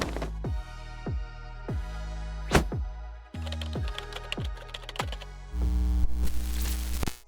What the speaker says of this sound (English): if you're going to be typing, you're definitely going to need a keyboard